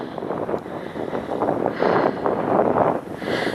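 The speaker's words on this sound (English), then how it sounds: "you can feel that wind now." Steady wind buffets the microphone on an open hilltop in Somerset during a bike ride, a continuous roaring rush that swells and eases, with no one speaking.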